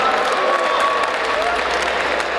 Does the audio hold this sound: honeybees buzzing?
no